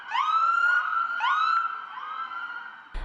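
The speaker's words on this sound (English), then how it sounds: "A seemingly endless line of Detroit squad cars with lights and sirens flashing past the Herbert" Detroit police squad cars file past a family's home in a procession, sirens wailing loudly in rising and falling sweeps that overlap and repeat, with a sharp thump at the very end.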